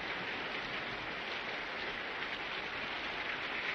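A constant rainfall, steady and fairly loud, washes over surfaces in a dense, even hiss with no pauses. It is heard alone, without voices, like the rain in a western film.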